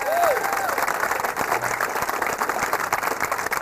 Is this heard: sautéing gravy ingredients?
no